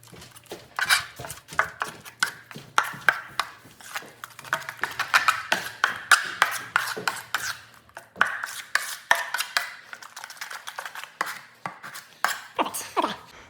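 Drywall joint compound is worked in a pan with a knife, producing a fast, irregular run of close scraping strokes and sharp metallic taps throughout.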